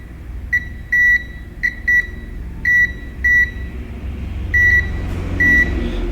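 A multimeter on continuity mode gives short, clean electronic beeps as probes touch points on a Nintendo Switch circuit board, about a dozen tones in uneven bursts, loud and close with no talking.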